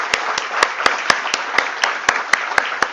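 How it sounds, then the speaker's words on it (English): Audience applause at an IPO listing ceremony for GNG Electronics Limited, a steady, even round of clapping from a crowd with sharp regular claps standing out near the front, lasting throughout. "let's have a thunderstorm applause for the founder and managing director of GNG Electronics Limited, Mr. Sharad Khandelwal"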